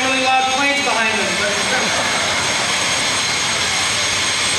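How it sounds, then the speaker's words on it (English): Loud aircraft engines roar steadily behind a speaker at an outdoor campaign event in Iowa, a constant jet-like drone filling the whole stretch, with a voice talking over it at the start. "And everyone had really loud planes behind them."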